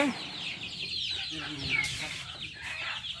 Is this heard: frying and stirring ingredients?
no